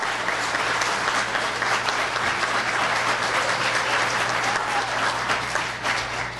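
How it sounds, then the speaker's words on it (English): Steady, dense applause from an audience at a fire rescue promotional ceremony, sustained and evenly loud throughout with no talk over it. "give these great people a round of applause"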